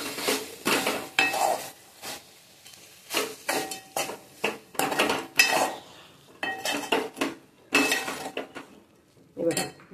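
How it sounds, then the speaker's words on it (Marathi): A spoon clinks and scrapes repeatedly in a pan as guar bean sabji is stirred with coarse peanut powder, with sharp metallic knocks in irregular bursts and quiet gaps between them. "हलवून घेऊयात आपण."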